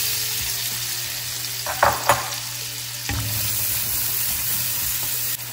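Onion fries in oil in a pan for chicken pastil, a steady loud sizzle with a low hum underneath and a couple of sharp stirring scrapes early on; no speech.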